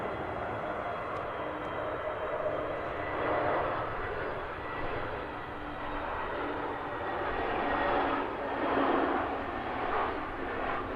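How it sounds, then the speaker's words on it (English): An EasyJet airliner arriving from Bilbao comes in to land at Manchester Airport, a steady broad roar of engines and airflow swelling and easing at moderate distance with no voices. "Here's the EasyJet from Bilbao next to touchdown"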